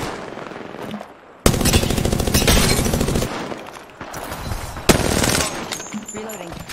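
Gunfire in the Apex Legends video game rattles in loud rapid bursts, one long stretch of automatic fire followed by a short pause and then another burst, sharp and close.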